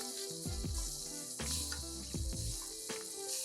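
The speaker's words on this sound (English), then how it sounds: "Flip it and keep on basting." A pork chop sizzles in a pan with butter while being basted, continuous close frying hiss overlaid by repeated rhythmic spoon scoops and splashes of fat.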